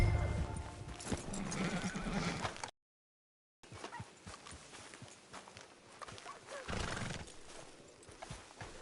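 A horse in the Red Dead Redemption video game whinnies and clip-clops close by, with hoofbeats and neighs repeating across the scene, broken by a short silent gap.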